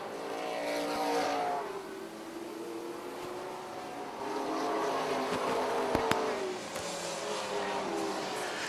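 Dirt-track race car driven deep and sideways off a corner at a Charlotte race, a steady engine roar rising and falling with throttle, carried over the crowd ambience at a distance.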